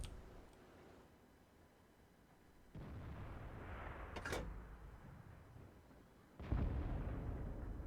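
Tank cannon shots in World of Tanks, fired from a T34: two heavy booming blasts several seconds apart, each followed by a rumbling tail, with a sharp metallic impact crack between them.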